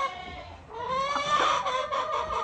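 A chicken clucks and squawks in a rising, drawn-out call, close by, with a few shorter cackles following and no talking.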